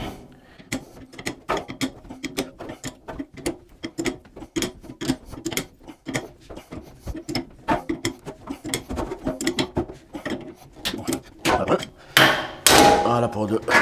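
A clamp-type hole cutter tightening into a stainless steel kitchen sink, producing rapid repeated metallic ratcheting clicks close up, steady then denser and louder toward the end.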